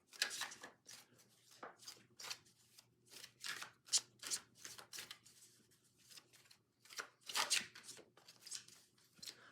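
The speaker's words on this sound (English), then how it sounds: "I'm still shuffling off of screen" Playing cards are shuffled in a series of quick, crisp riffling bursts and flicks, close and fairly quiet, repeating irregularly with short pauses between.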